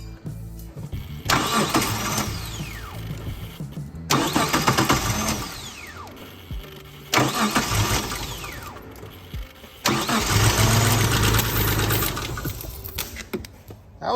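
A Mitsubishi 3000GT abandoned for ten years cranks and fires repeatedly, four loud bursts of engine starting and running separated by short pauses, with a rough mechanical clatter and whine close by.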